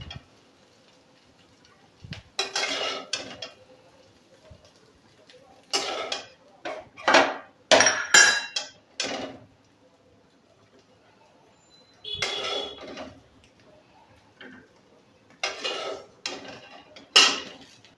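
Metal utensils clink and scrape against a pan as fried cauliflower is lifted out, in scattered clusters of sharp clatter separated by quiet pauses.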